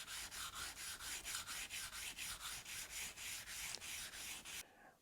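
A steel card scraper's edge is rubbed with a piece of hardwood to remove the burr, giving a close, even series of rhythmic rasping strokes, about three per second, that stop abruptly near the end.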